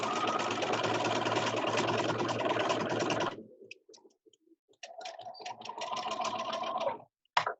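Sewing machine stitching a quarter-inch seam on a fabric face mask, a close, steady mechanical whir that halts abruptly, followed by a few clicks, then a second, shorter run of stitching.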